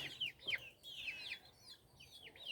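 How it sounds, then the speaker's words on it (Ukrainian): Chickens cluck and chirp softly at a distance, a scattered run of short calls over quiet outdoor background. "Зараз будемо збирати качку з качатками, курчат"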